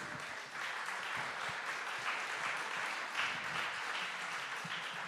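Sustained applause from a conference audience at a spinoff and Horizon Europe info day, a steady dense wash of many hands clapping that swells slightly after the first half second and holds at an even level throughout.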